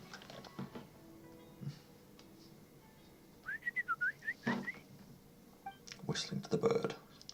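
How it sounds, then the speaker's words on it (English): A video game character in Genshin Impact whistles to a bird. A short run of clear, rising and falling whistled notes sounds close and alone, with a few soft clicks and rustles before and after. "Whistling to the bird."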